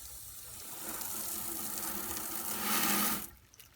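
Water gushes steadily from a tap, swelling louder near the end before cutting off abruptly. No one speaks.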